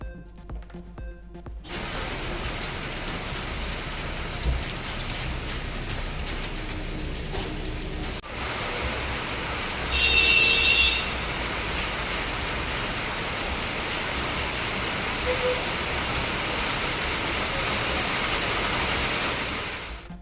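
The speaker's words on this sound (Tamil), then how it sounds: "நீலகிரி மற்றும் கொடைக்கானலில் கொட்டி தீர்த்த மழை." Heavy rain pouring down in the Nilgiris and Kodaikanal hills, a steady, dense hiss of downpour that runs the whole time with little variation, briefly swelling a touch louder partway through.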